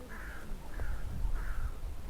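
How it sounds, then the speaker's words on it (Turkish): Three harsh crow caws spaced apart, fairly clear, over low wind-like rumble outdoors at Van Museum on a sunny day. "Kuş seslerini duyuyorsunuz"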